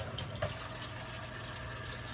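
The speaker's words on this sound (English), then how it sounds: "we're going to rinse it with hot water" Hot tap water runs in a steady hiss as an implement is rinsed under it, faint and even throughout with small splashy changes as the item moves in the stream.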